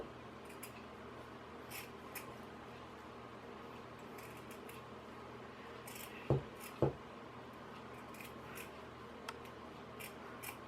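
Scissors snipping paper Christmas stars for a kids' advent calendar craft, two sharp close snips over a quiet room hum.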